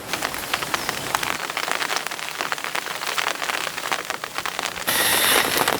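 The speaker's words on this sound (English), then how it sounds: "as you can probably hear, and as you just saw, it is raining" Steady rain patters on the bank of Chad Lakes during a summer day of carp fishing, a dense, close hiss of drops that swells to a heavier downpour near the end.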